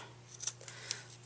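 Scissors trim the edges of a handmade floral paper card, giving a few quick, soft snips close by against a quiet room with a low steady hum.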